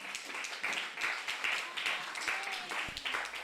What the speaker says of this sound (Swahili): Mpigie Bwana Yesu makofi.